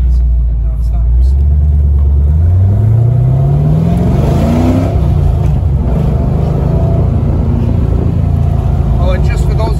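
A Mazda Miata with a fake single rear exhaust pulls away and accelerates around the block, its engine rising in pitch through a gear, then cruising with steady road rumble close inside the car while someone talks over it.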